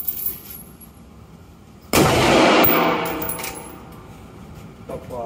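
A single sharp pistol shot at a shooting range cracks loudly, followed by a ringing echo that fades over a few seconds, with faint clinks afterward.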